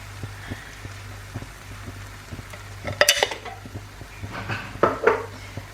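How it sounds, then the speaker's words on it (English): Chopped tomatoes from a tin tipped into browning mince in a pan, giving a soft wet splatter and gentle sizzle with scraping and clinks of a spoon against the pan, loudest in a couple of bursts toward the end. "then I'm going to add a tin of chopped tomatoes"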